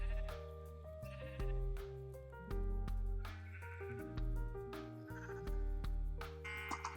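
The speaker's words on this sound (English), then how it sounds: "Okay, so you go in and here are all the sheep." Sheep on a wool farm bleating, several loud, drawn-out calls one after another at close range, with no talk.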